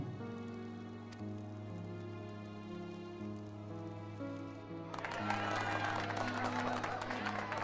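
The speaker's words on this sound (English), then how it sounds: "Okay, I hear cheering." Crowd cheering and applause in the video game Final Fantasy XIV: Heavensward, a dense roar that swells in suddenly midway over sustained game music and continues loudly to the end.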